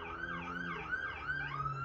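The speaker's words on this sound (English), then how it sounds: "it wouldn't be my video without the sirens, y'all." Emergency vehicle sirens wail outside, their rising and falling tones sweeping steadily and overlapping, heard at a moderate distance under a low background hum with no talking.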